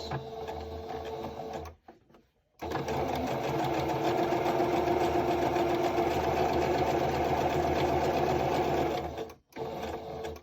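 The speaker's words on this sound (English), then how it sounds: "we're sewing this part down so it looks a little nicer and it stays flatter" A serger stitches a cloth face mask in a fast, loud, steady mechanical whir. It cuts out briefly twice, once near the start and once near the end, and no one talks.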